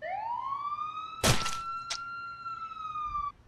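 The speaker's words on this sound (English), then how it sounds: "We're gonna have to ring an ambulance." A close, loud emergency siren sweeping up and holding a steady wail for about three seconds, broken by a sharp thump and a brief clatter, with no talking.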